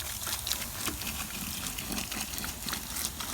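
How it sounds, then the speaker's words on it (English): Copper ore solution poured into a big bucket, a steady close trickling and splashing of liquid that runs unbroken throughout. "we're going to try and pour it in the big bucket"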